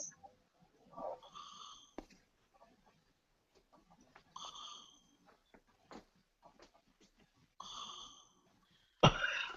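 Sleeping people snoring and wheezing, faint breathy snores recurring in a slow rhythm with soft sniffs and clicks between them, ending in a sudden loud bump, no talking.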